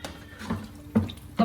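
Water from a glass poured into chicken curry cooking in a pot, heard as a few short splashing gushes, close and fairly loud.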